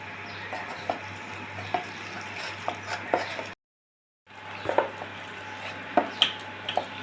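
A little water goes into a frying pan while thankuni leaf fritters cook, giving a soft steady sizzle with light stirring and utensil taps, broken by a short silent gap.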